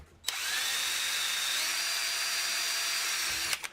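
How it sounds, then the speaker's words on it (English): A power drill whines steadily for a few seconds, boring a hole through a cracked metal fan, starting and stopping abruptly, close and clear with no voices. "you could at least kind of drill a hole in it in here to stop the crack spreading any further"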